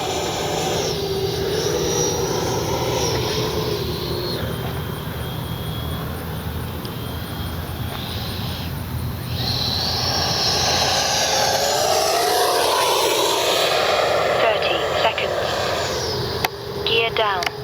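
A Freewing Avanti S 80mm EDF RC jet makes a fast speed run, its high ducted-fan whine rising and falling with Doppler sweeps as it passes near and far. The steady rushing continues throughout.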